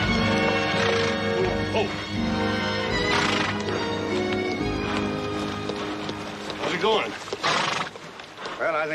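Horses neigh and whinny loudly several times in a Western TV scene, with hooves clip-clopping underneath and people talking over much of it.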